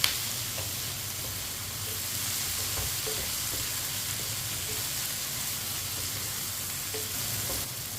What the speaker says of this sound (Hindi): 2 मिनट के लिए इसी तरह फ्राई कर लेना।